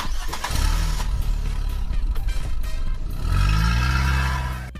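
A car engine starting in the Free Fire video game: a cranking, sputtering start that catches into a rising rev and then a loud, steady idle, with no talking.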